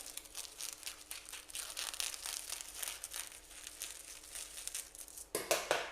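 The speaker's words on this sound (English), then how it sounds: "Get your freezer film and you're going to measure here the lid and then you cut" Plastic freezer film is handled, measured and cut for a cake-board lid. It gives a close, continuous crinkling and rustling that ends in a sharper burst of crackle.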